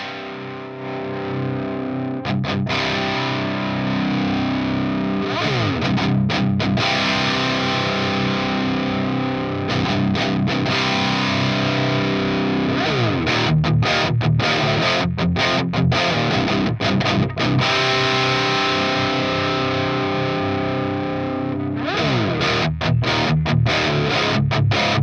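Electric guitar played through a Crab BE custom tube amp at a higher gain setting, sounding thick and distorted with sustained chords and riffs broken by brief stops, loud and close throughout with no talking.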